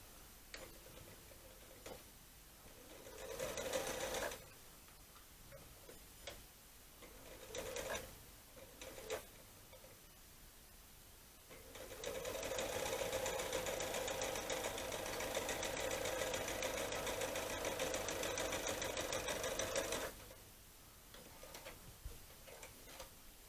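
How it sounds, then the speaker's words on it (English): A sewing machine stitching a fabric piece from corner to corner, running in a few short bursts and then one long steady run of rapid mechanical ticking before stopping. "Then you sew from that corner to that corner again."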